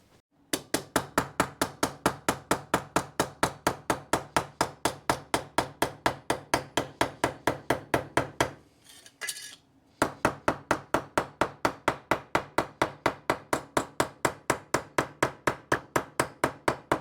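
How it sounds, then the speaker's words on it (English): A hammer flattening a metal edge on a mini truck lowrider build, striking in a steady fast rhythm of many sharp, close blows, with a brief pause midway before the pounding resumes. "I'm going to go through and flatten this edge with a hammer first"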